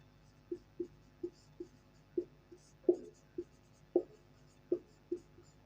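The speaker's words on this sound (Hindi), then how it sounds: "आइए यहाँ हम लिखते हैं" Chalk or marker on a board makes a run of short, faint, separate strokes and taps at an uneven rhythm in a quiet room.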